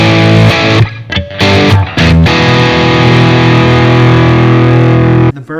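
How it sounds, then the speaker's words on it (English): Heavily distorted electric guitar in a heavy metal style, dense sustained chords with a few brief choppy breaks early on, loud and close, ending abruptly. "So let's go over to Distortion."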